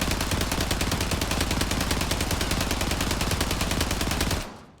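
Sustained automatic gunfire from a weapon in the video game Warzone, a rapid unbroken stream of shots lasting over four seconds before cutting off abruptly, loud and close with no voices.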